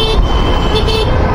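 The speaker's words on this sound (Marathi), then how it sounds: "हे नॉर्मल ट्रॅफिक लागतेच" Car horns toot amid ordinary village road traffic, a loud, close honk sounding over the rumble of passing vehicles in a brief burst.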